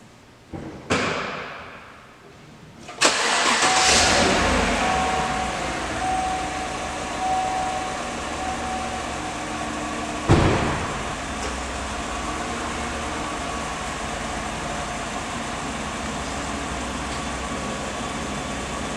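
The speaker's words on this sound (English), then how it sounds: "I'm going to start the system and make sure the compressor kicks on." A car air conditioning system starts up: a couple of dull thumps, then the compressor kicks on with a sudden surge into a steady mechanical hum, a brief clunk partway through and continuous running, with no voices.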